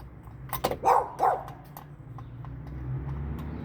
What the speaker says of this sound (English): Keep barking at me, dog.